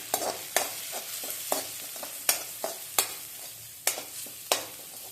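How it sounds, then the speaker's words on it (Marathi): Red chili powder and garam masala sautéing in a pan with tomato, with a soft frying sizzle under repeated sharp scrapes and taps of a spoon stirring at close range. "लाल तिखट गरम मसाला परतून घ्यायचा"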